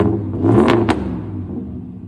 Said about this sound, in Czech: Jedním ze super upgradeů je kompletně nerezový výfukový systém Borla, který dává pickupu ten pořádný americký 8válcový rumble.